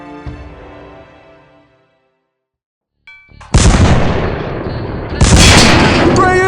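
A cartoon tank fires its cannon, a sudden heavy boom after a quiet gap that rumbles on, then a second loud blast follows, all preceded by fading musical tones.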